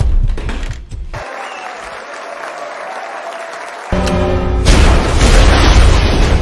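A time bomb detonates in a dramatic drama scene, a sudden loud blast near the end with a broad rumbling burst that swells and lingers over the final seconds after a quieter stretch.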